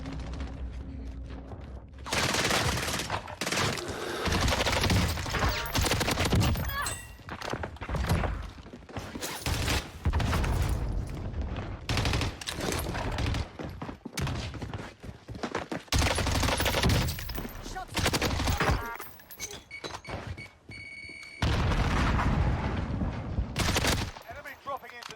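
Close-range XM4 rifle fire in Call of Duty Warzone, loud rapid bursts of automatic gunfire repeating in dense volleys across the whole stretch, with short gaps between strings of shots and faint game noise.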